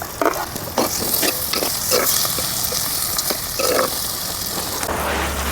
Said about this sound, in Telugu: ఇప్పుడు మిర్చి కాసేపు వేగిన తర్వాత ఉల్లిపాయలు వేసుకోవాలి